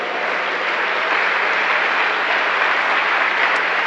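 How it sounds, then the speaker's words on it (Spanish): Sustained, even applause from a church congregation, dense and loud throughout with no voices over it. "Hay un aplauso para nuestro Dios."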